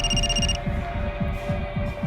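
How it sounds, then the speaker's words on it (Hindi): A landline telephone rings in an office, a steady electronic tone with a throbbing pulse and a low hum beneath, close and alone, its higher tones cutting off partway through. "तुम्हारा फोन बज रहा है, लैंडलाइन से।"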